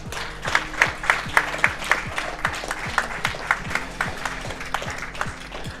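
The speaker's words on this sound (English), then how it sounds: "Let's give him another round of applause." An audience at an esports national finals applauds the champion, with crowd clapping over a rhythmic thumping beat from music playing underneath.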